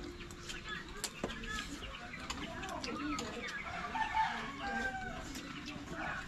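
Rooster crowing among other fowl clucking in a lively outdoor setting, with steady crowd chatter and voices talking over the birds throughout.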